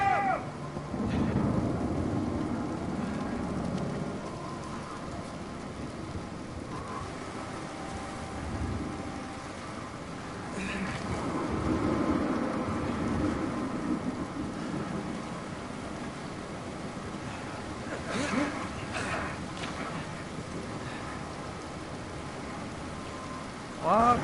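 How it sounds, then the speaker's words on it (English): Rain pours steadily in a stormy scene in the video game Uncharted 4, a continuous hiss with low rumbles of thunder swelling and fading in the background, and a brief sharper sound right at the end. "Lots of rain."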